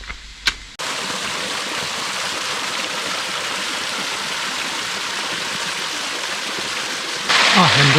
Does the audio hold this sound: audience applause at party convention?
no